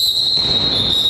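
A referee's whistle ends the first half of a Superleague football match between Livatek FC 1 and Kapkan: one long, piercing, steady high tone held through the whole moment over faint crowd and pitch noise.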